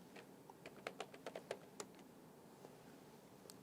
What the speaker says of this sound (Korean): 그러면 타이핑으로 입력되는지 한번 볼까?